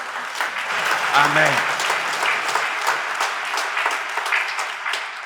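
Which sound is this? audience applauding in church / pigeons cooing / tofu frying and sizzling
audience applauding in church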